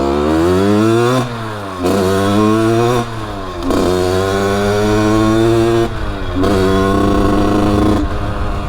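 A 50cc supermoto converted from an enduro revs hard and close, its buzzing two-stroke-like drone rising and falling through several throttle blips with brief dips between pulls.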